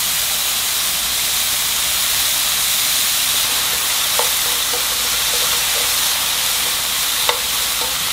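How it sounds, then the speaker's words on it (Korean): Onions and carrots stir-fried over high heat for a beech mushroom stir-fry, giving a loud, steady, even hiss of frying that runs throughout. A few faint utensil ticks sound near 4 and 7 seconds. "이렇게 잘라놓은 양파 하고 당근 먼저 볶으세요."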